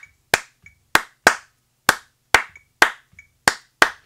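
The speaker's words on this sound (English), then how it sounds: "it's just going to be 3 claps followed by 2 claps" Sharp, close hand claps alone in a repeating pattern, a group of three followed by a group of two, crisp and evenly spaced with silence between.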